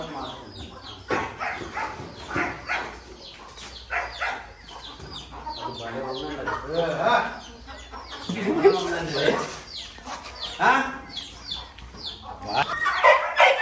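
Roosters and hens on a farm clucking and calling repeatedly, fairly close, with people talking over and between the bird sounds.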